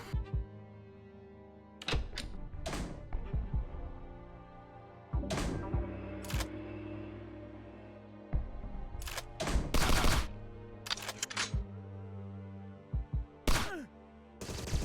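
Gunfire in the retro-style shooter game Agent 64: Spies Never Die, a GoldenEye 007 throwback: sharp, punchy shots fired in scattered bursts and single cracks, with quiet gaps and an electronic hum between them.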